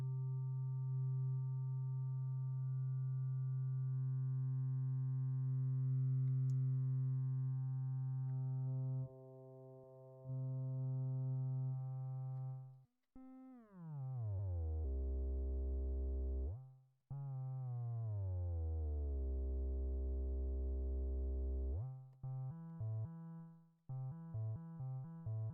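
A sustained synthesizer tone is made creepier by heavy detuning and a cutoff filter, holding low, then sweeping downward in gliding pitch bends before ending in short stuttering notes; quiet and alone.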